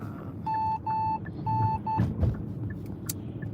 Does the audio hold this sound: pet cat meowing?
no